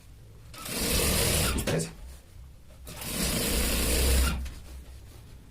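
Sewing machine stitching shirt fabric runs in two sustained bursts of close, steady whirring with a pause between, while someone speaks over it.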